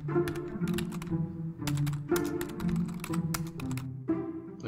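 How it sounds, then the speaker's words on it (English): Keyboard typing inside the video game Missing Translation: a steady run of quick key clicks layered over a looping game music bed, no talking, sustained throughout. "We're typing."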